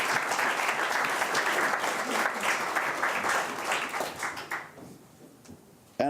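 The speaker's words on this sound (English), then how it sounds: "perhaps we could give the three resource persons a round of applause" A round of applause at a national youth parliament session, a dense steady clapping from the chamber that thins out and fades over the last couple of seconds, with faint voices underneath.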